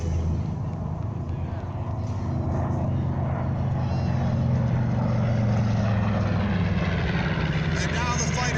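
WWII propeller fighter planes making a strafing run at the Nellis airshow in Las Vegas, a steady loud engine drone that swells slowly and holds throughout, with faint crowd or announcer voices beneath.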